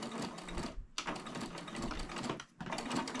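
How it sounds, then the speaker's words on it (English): A sewing machine stitches a 1/4-inch seam in stretchy leggings fabric for a scrunchie, a steady fast whirring hum running close and continuous with two brief pauses. "I'm sewing about a 1/4 inch seam allowance."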